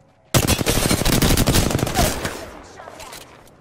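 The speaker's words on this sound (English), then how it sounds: "Shots fired, and they're hitting me" Rapid automatic gunfire from the video game Apex Legends starts abruptly after a brief silence, a loud dense burst of shots for about two seconds before tapering into echoing tails.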